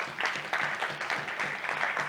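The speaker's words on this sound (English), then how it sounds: "So young people in Jamaica, clap yourselves." Applause from young participants at a Caribbean youth forum on disaster risk reduction, uneven clapping with pulsing bursts and a faint voice beneath, moderately close and brief.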